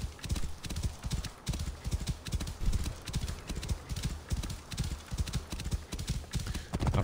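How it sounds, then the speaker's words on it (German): Horse hooves clip-clop steadily through the desert in Assassin's Creed Origins, a continuous rhythmic gallop of close, loud hoofbeats with occasional whinnying and no talk. "Aber wir reiten jetzt halt mit Bayek dahin."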